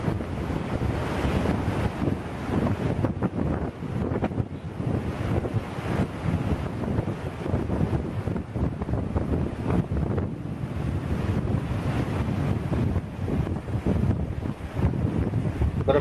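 Meltwater from a glacier rushes as the start of the Bhagirathi river, a steady broad roar of flowing water mixed with heavy wind buffeting the microphone, continuous and loud, with no voices.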